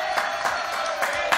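Applause from a studio audience on a French radio show, a short steady burst of clapping that fills the whole moment at moderate loudness with no talk over it.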